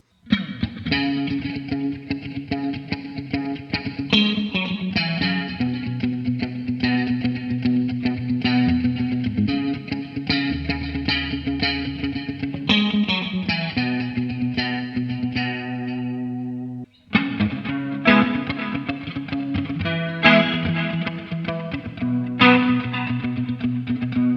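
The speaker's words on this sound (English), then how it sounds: "in snapshot number 3, as you can see, we have introduced the pitch echo" An electric guitar is played through a Line 6 POD GO set to a Roland JC-120 amp tone with a pitch echo effect. Chords and single notes ring out with shimmering, pitch-shifted repeats. The playing is continuous for the whole passage, with one brief pause.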